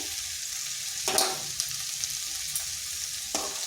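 Two eggs with a little salt frying in a pan among spring onions, a quiet continuous sizzle broken by a few louder crackling bursts and light stirring scrapes, no talking.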